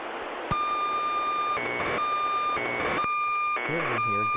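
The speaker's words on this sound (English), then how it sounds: "Here you'll hear the iMet-1 radio sonde activating and sending data." iMet-1 weather radiosonde transmitting over radio, heard through a receiver as a steady carrier tone that begins abruptly and is broken by regular once-a-second bursts of buzzy data warble, close and clear.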